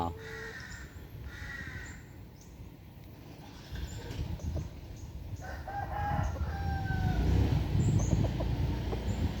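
Thai fighting cocks crowing outdoors, several drawn-out calls from different distances rising over a steady background of rustling, clucking and ambient noise, with faint voices in the surroundings.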